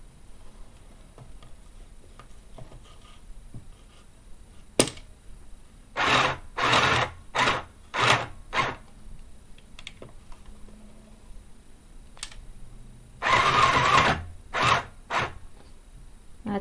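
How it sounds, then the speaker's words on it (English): Mini sewing machine reverse stitching at the end of a seam on fabric for a DIY hand warmer: two quick bursts of rapid mechanical stitching, each split into short rhythmic runs, close and moderately loud, separated by quiet handling pauses. "At the end as well, I'm going to reverse stitch those last few stitches."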